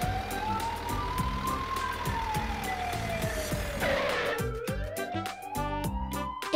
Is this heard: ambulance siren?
yes